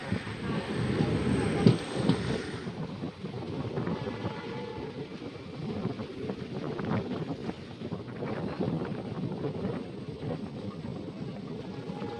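A continuous rumbling roar of a train running on the Madurai–Rameswaram line near Mandapam, steady and fairly loud with some wind buffeting, and faint voices in the background.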